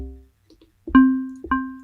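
Bassy FM synthesizer tone run through a low-pass filter, heard as two sustained, harmonic-rich notes with sharp attacks, alone and moderately loud after a few faint blips.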